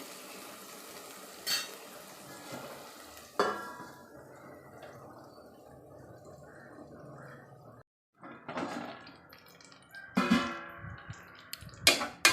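Onions frying in a pan for a green bean curry, with intermittent stirring and scraping bursts over a steady low sizzle, quieter passages between and a brief silent gap near the middle.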